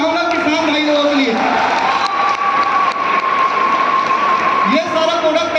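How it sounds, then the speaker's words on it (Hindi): A live audience gives loud, sustained applause and cheering for farmers at a product plan presentation, with clapping and shouts filling the whole stretch and some voices mixed in. "एक बार जोरदार ताली चाहूंगा किसान भाई लोगों के लिए।"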